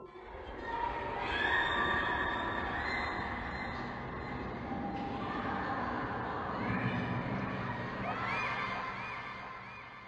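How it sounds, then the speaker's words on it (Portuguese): Distant children screaming and shouting at an abandoned playground in the video game Half-Life 2, a steady eerie crowd of high voices over a low ambient drone throughout. "Ao se aproximar do parquinho, o jogador começa a ouvir gritos de crianças."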